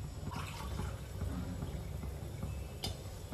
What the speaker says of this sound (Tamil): மூணு டம்ளர் தண்ணி ஊற்றுவோம்